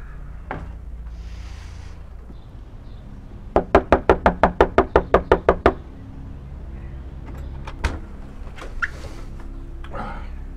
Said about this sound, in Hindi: खटखटाओ मत।